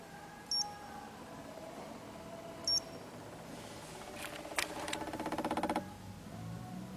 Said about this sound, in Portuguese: Válvula de purga do sistema evaporativo.